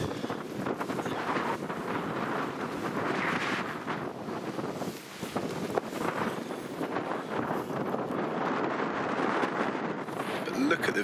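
Wind on an open moor on Dartmoor at a wild campsite buffets the microphone in continuous rumbling gusts that swell and ease, with a person talking beneath the noise.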